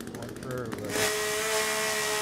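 Chainsaw revving in a dark cave in a video game, a loud steady buzzing drone that kicks in after a brief burst of other noise and then holds continuously.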